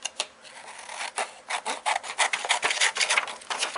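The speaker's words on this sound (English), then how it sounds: "Be very careful to cut this out as one piece." Scissors cut through paper at close range in a quick series of crisp snips and rustles, irregular and getting denser toward the end, with no one speaking.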